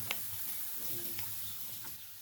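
Spices lightly roasting in a pan for Misala Maghaz, a faint steady sizzle with a few soft stirring scrapes.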